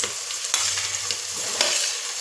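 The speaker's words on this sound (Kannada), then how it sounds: "ಅದರ ಜೊತೆ ಹೆಚ್ಚಿದ ಮೆಣಸಿನಕಾಯಿಯನ್ನು ಹಾಕೋಣ. ಟೊಮೆಟೊ ಹಾಕೋಣ." Chopped green chillies and tomato frying in a hot pan for a vegetable pulao, a steady loud sizzle with scraping stirs, close up and without talking.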